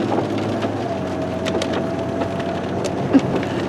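Rain on a cold, rainy day, a steady soft patter with scattered drips and taps on surfaces, plus one brief louder knock near the end.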